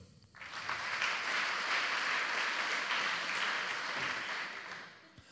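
An audience at a rectorate inauguration ceremony breaks into steady applause that swells quickly, holds evenly for about four seconds, then fades out, with no talking over it.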